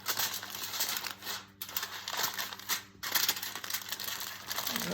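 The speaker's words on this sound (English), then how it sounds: "you're gonna wrap the aluminum foil right over that. And I like wrapping it tight." Aluminum foil being wrapped tightly around a tumbler soaked for acetone stripping, giving close, loud crinkling and crumpling in bursts with two brief pauses.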